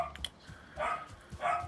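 A dog barks indoors in the background, two muffled barks about half a second apart following some faint clatter, with no talking over them.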